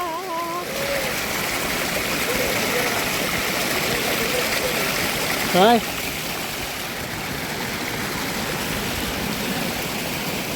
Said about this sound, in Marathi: गाय बघा झरारा चालू झाला, पाण्याचा झरारा